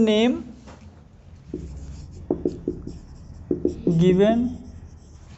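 Chalk or marker scratches out short strokes on a board during a genetics lesson on linkage, a few brief tapping scrapes between stretches of a teacher's voice.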